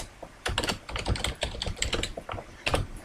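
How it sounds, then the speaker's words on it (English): Fast, uneven clicks of keys on a computer keyboard fill the scene at close range, with short pauses between bursts of typing and no voices. "Now what I'd like to do is record typing."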